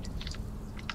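A pet dog gnaws on her bone close by, with a few quiet crunching bites scattered over a low steady hum.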